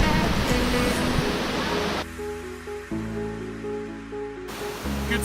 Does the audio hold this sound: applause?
no